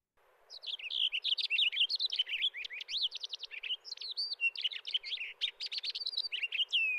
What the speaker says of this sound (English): This is the full song of a Cassin's finch. It's a long, jumbled, complicated, wonderful song